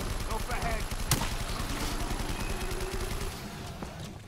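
An LSAT light machine gun fires steady rapid automatic bursts in Black Ops 3 Zombies, dense and close, with a sharp louder blast partway through and a voice under the gunfire.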